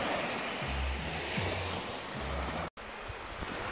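Sea waves wash against the shore at the Phi Phi islands in Thailand, a steady surf roar with low rumbling swells and some wind buffeting the microphone and a brief dropout near the end.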